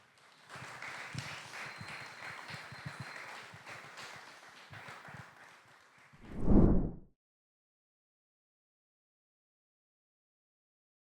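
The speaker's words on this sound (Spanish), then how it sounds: "Un aplauso para este señor." An audience applauds a local cultural figure, a visual artist from Floridablanca, with scattered medium-loud clapping that carries on for about six seconds and ends with a brief thump, followed by silence.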